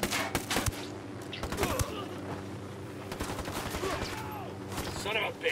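Gunfire in the Ghost Recon Wildlands video game, with a rapid burst of shots early on and scattered single cracks afterward, heard over steady game background noise while players talk.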